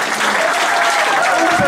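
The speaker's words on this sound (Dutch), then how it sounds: "applaus." Loud, close applause from an evening audience cheering a performing trio, a dense continuous burst of clapping with no clear voices.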